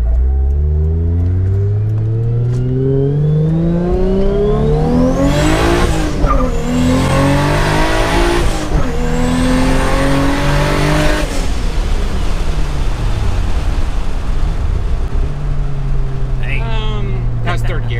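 A Toyota Supra accelerates hard through its gears from inside the cabin, the engine note climbing in loud sweeps with brief dips at each shift, then settling to a lower drone while people talk over it.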